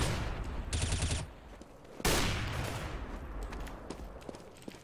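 Gunfire bursts from a Counter-Strike match: a rapid automatic burst, then a single loud shot with a ringing decay, followed by scattered lighter clicks and game effects.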